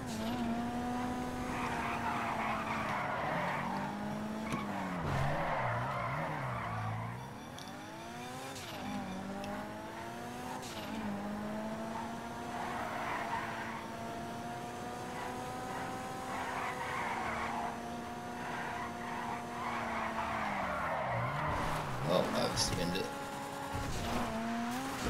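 Car engine revving with tire squeals and skids while drifting in Grand Theft Auto V, a continuous loud whine rising and falling under music and talk.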